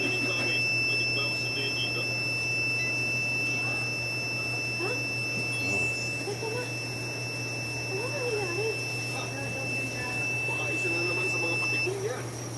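A steady high-pitched electronic smoke alarm tone sounds continuously over a low hum while a person talks in the background, during a smoke sensor test.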